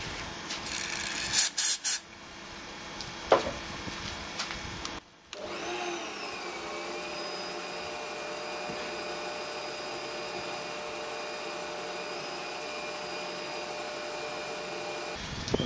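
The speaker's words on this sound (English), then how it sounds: "But we'll get this drilled out now." Cast aluminium belt sander drive wheel being drilled out on a metal lathe, a steady whirring machining drone running continuously after a brief louder burst near the start.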